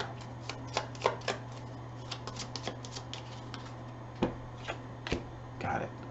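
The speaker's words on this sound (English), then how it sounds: "now I need for it to shuffle to get my fourth card there" Cards shuffling in a video card game, a series of short crisp riffling clicks and taps scattered over about six seconds, fairly quiet over a steady low hum.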